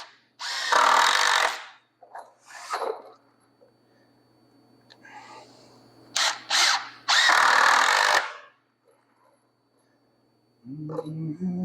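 A power drill drives screws into wood for simple garage shelving, sounding as two loud whirring bursts of about a second each, separated by short clicks, handling noise and brief talk, with a low hum near the end.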